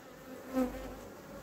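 Honeybees buzz steadily around a hive frame during a late-season colony check, a close, continuous drone that swells briefly in the middle.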